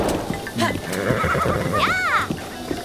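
A horse in Zelda Breath of the Wild gives a loud, close whinny rising and falling over a second, amid clip-clopping hooves and a person talking over the game.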